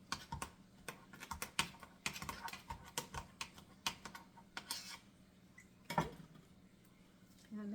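Knife cutting up lasagna ingredients on a board, a series of irregular sharp taps and clicks, close but quiet, with brief pauses and a louder knock near the end.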